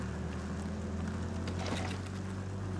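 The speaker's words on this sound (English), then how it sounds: "It's the general's jeep noise." A general's jeep in Civilization VI gives off a continuous low engine rumble with a steady hum, droning without a break at low volume behind the game's ambience.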